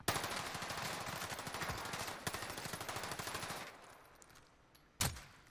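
Automatic gunfire in the Warzone video game: a sustained rapid burst of shots lasting several seconds, then a pause and one sharp loud shot, close and punchy with no talk.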